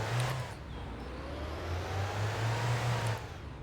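A car engine warming up in cold weather in the game My Winter Car, a steady mid-pitched idle hum with slight rises in revs, moderately loud and alone.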